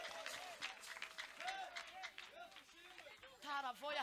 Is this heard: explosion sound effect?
no